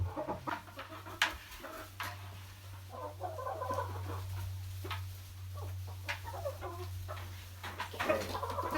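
Soft clucking and murmuring from several backyard chickens close by in their coop, over a steady low electrical hum.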